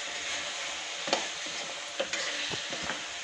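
A spoon stirs aloo badi curry in a frying pan, soft sizzling with a few scattered scraping knocks of the utensil against the pan, close and fairly quiet with no talk.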